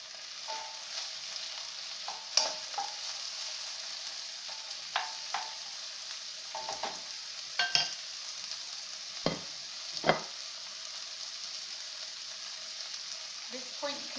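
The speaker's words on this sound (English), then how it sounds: "So first of all, we'll cook the onions." Onions fry for chicken chow mein with a constant bright sizzle, broken by irregular scrapes and knocks of a utensil stirring the pan, heard close and with no voices.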